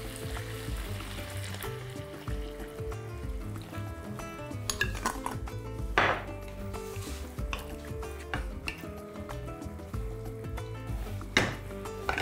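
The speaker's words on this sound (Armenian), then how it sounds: "Ավելացնում ենք 200 մլ կոկոսի կաթ" Coconut milk poured into a pan and stirred while cooking pork tenderloin with pineapple, giving soft liquid pours and clinks of a utensil against the pan over a steady background, with a few sharper scraping bursts.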